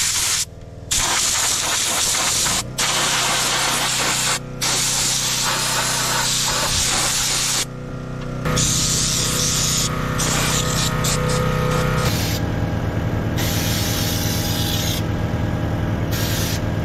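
Undercoating sprayed onto the rusty underside of an old vehicle, loud hissing spray bursts that start and stop in several short blasts, then a longer continuous spray close to the microphone.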